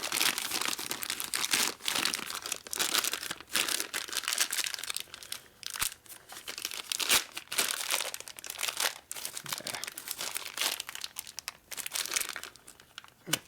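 Tough plastic packaging around a replacement valve for a Harley-Davidson 1200 Sportster cylinder head crinkles and crackles steadily as it is handled and torn open, close up, with no talking.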